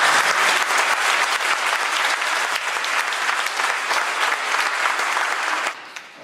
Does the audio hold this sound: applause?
yes